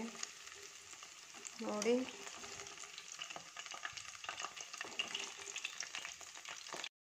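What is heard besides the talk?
cauliflower (gobi) Manchurian frying in oil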